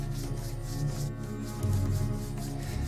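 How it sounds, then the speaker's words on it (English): Two hands rub together vigorously, making a steady close-up dry swishing friction under a low background hum, with no talking. "Rub them together vigorously until you can feel them warming up."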